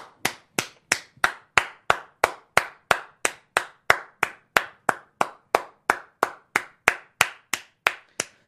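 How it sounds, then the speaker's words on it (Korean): Close, steady rhythmic hand clapping, roughly two dozen sharp claps at an even pace of about three per second, with no talk over them. "박수 한번 치죠"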